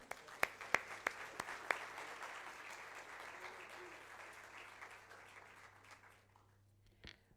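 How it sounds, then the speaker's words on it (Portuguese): An audience at a cultural council swearing-in ceremony applauds for GOG, opening with a few sharp, distinct claps that swell into steady, somewhat distant clapping before fading out near the end. "Uma salva de palmas para o GOG."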